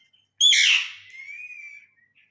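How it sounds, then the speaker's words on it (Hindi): A pet myna lets out a single loud, harsh call that trails into a thin, fading whistle, close by and alone against silence. "ये देखें हमारी मैना"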